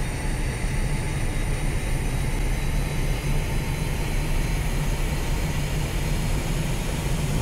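An Me 262 jet engine in a flight simulator game runs up slowly for taxi, a steady loud roar with a constant turbine whine held throughout, no voices present.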